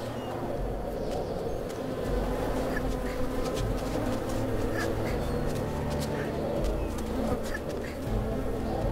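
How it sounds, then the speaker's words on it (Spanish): A steady, close insect drone from a swarm of mosquitoes in the video game Submerged, buzzing continuously over a low ambient hum, with faint ticks scattered through. "Un montón de mosquitos."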